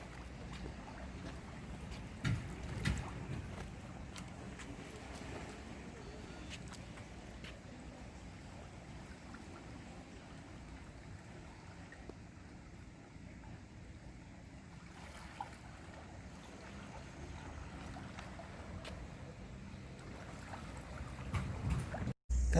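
A yacht passes on the water near a revolving bridge in Campbellford, giving a steady low engine rumble mixed with washing water and a little wind. The sound is continuous and moderately distant, with no talking.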